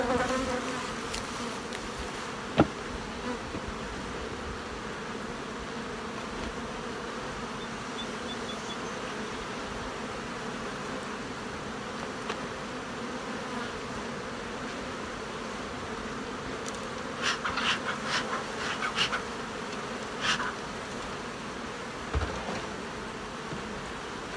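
Honey bees buzz steadily during a summer hive inspection, a dense, even drone close by that runs throughout, with a few sharp clicks and taps near the end.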